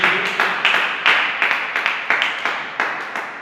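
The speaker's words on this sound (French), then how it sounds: "Église, nous acclamons fortement." A church congregation at a Sunday service claps in brisk, uneven bursts, the sharp claps close and loud and repeating throughout with no voices over them.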